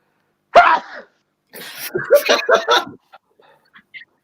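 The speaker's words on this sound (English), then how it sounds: "I'm trying to hold off a sneeze." A sharp, sudden sneeze bursts out, followed by a short gasping, spluttering aftermath and a couple of faint sounds.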